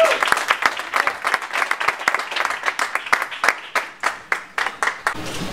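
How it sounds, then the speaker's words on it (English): Boxing crowd applauding after a fight, a mix of clear individual claps with uneven rhythm and a roar of crowd noise, loud and close, tapering off at the end. "Please give a round of applause from Guadalajara, Jalisco, Mexico, Abner Mares."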